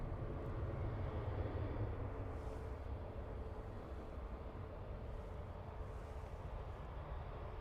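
An Aer Lingus airliner takes off from the Dublin Airport runway, heard as a distant, steady broadband engine roar that holds evenly throughout.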